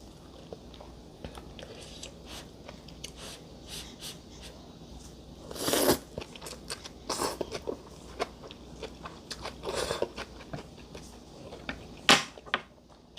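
Crispy pork rinds crunched while eating, with irregular close bites and chewing crunches, a few louder bursts over quiet background.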